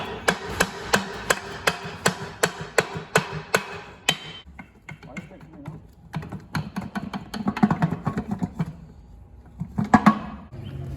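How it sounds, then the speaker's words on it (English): A 2JZ-swapped Mustang's transmission rear housing is tapped loose, giving a rapid run of sharp, evenly spaced metallic taps close by. Quieter knocks and handling noises follow. "we'll tap it off of the back of the housing"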